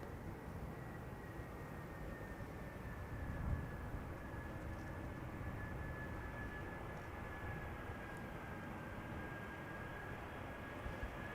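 Croatia Airlines plane arriving from Zagreb at Amsterdam Schiphol Airport, a faint, distant, steady engine rumble with a thin whine, heard alone under open outdoor ambience.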